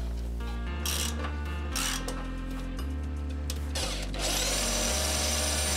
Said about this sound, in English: Now I'm drilling two 10mm holes into each bracket.